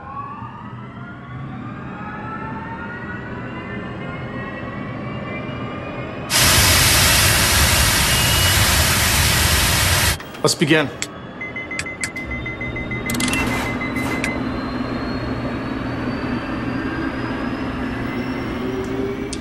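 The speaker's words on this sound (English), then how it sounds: "Investigators ultimately throw monsoon-level rains against the engine. They run it from idle up to full throttle." A jet airliner engine of the type used on Southern Airways 242 runs on a test stand under simulated monsoon-level rain, from idle toward full throttle. A rising turbine whine builds, a loud broadband roar bursts in for several seconds, then the steady whine continues. A voice speaks briefly.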